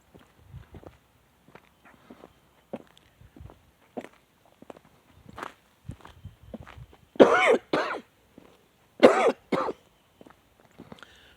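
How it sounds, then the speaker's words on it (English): A man coughs and clears his throat in a few loud bursts while strolling through a pasture, his footsteps crunching softly between the coughs. "Sorry for the coughing."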